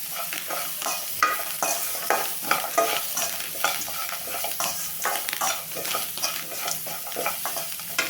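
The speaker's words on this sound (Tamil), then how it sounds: "ஒரு கிளறி விட்டுக்கலாம்." Spoon stirring a gooseberry chutney mixture with salt and coriander leaves in a pan, giving continuous scraping and soft sizzling with repeated stirring strokes, close and fairly loud with no talk.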